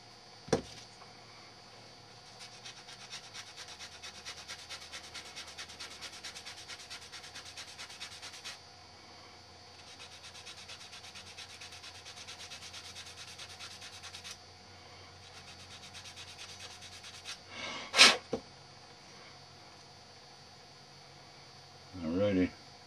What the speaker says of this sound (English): Let me sand on this side a little bit.